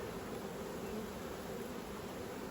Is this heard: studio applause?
no